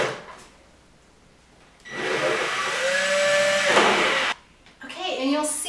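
A power driver sinking 3/4-inch screws up from underneath into a window valance board gives a steady whirring for about two seconds, and a voice follows right after.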